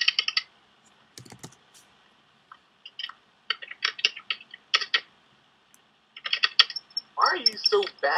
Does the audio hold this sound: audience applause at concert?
no